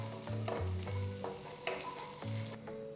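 Butter with Kashmiri red chili powder frying over a low flame in a pan, a steady close sizzle broken by repeated scraping stirs, with no one talking.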